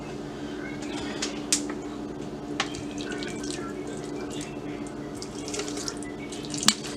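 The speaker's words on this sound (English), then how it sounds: "So let me just put some water in this plant." Water trickles from a vessel into a potted house plant, a soft continuous pour broken by a few small splashes and drips, fairly quiet and close.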